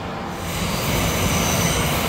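An R179 New York subway car on a Brooklyn-bound C train runs at speed, giving a loud, steady rumbling roar with a faint high wheel whine and no voices.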